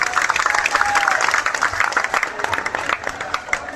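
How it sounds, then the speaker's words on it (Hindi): A large crowd at a Bageshwar Dham Divya Darbar religious gathering breaks into loud, sustained applause with sharp individual claps, thinning toward the end. "जोरदार ताली बजाओ सही में।"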